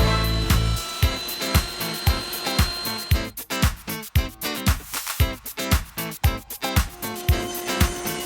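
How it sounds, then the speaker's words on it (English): A router table fitted with a rabbeting bit cuts a recess into wood in a series of sharp, close, repeated bursts that alternate with short pauses, with no talking. "So I use a rabbiting bit at the router table to make this recess."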